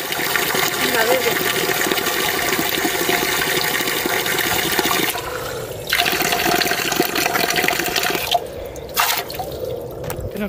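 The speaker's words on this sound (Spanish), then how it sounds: "Hay una fuente ahí." Water splashing and trickling from an outdoor fountain near the La Lobera reservoir at Arenas de San Pedro, a steady close wash that runs throughout with brief dips, while people talk nearby.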